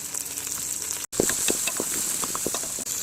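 Curry leaves crackle and sizzle in hot oil for a Kerala-style coconut milk fish curry, a steady hissing fry with sharp pops scattered throughout, close by.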